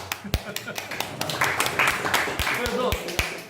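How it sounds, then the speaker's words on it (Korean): Scattered audience claps at a forum on the future development of Yeonsu-gu and Incheon, sharp isolated hand strikes landing under ongoing talk in a hall. "박수를."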